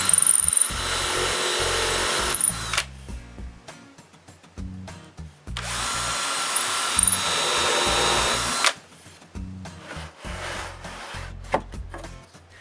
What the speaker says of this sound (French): je perce tous les trous pour les vis